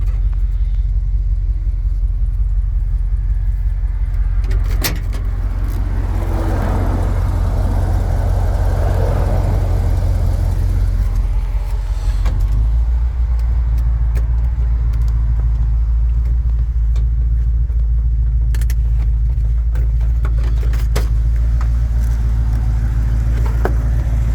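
A 1977 Ford F150 Ranger Trailer Special pickup's engine runs continuously, a deep, close, rumbling idle with a steady low throb and no voices over it.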